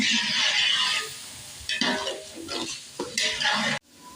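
Spices for Punjabi chicken pulao are stirred and fried in a pot, with loud scraping stirs and sizzling in uneven bursts, then a sudden cutoff near the end.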